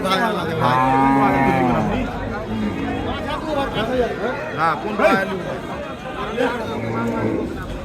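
Several cattle, including Gir cows, moo loudly at the Sonaichandi livestock market in Chapainawabganj, Bangladesh, long low calls overlapping amid a noisy crowd of chattering voices nearby.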